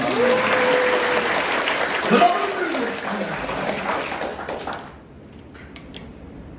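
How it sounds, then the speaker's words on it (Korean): Seminar audience applauding in a hall, a dense patter of clapping under a speaker's voice that fades out after about five seconds, leaving quiet room tone. "이럴 때 박수를 치는 거예요."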